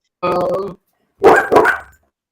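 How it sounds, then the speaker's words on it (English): A dog barks twice in close succession, loud and near, with a short silence between the barks and faint voices around them. "Oh, mine's barking too."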